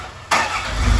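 A car engine cranks and catches in a Murree home setting, silence breaking into a sudden broadband roar that settles into a steady, rising idle with deep low rumble, close and loud, no voices.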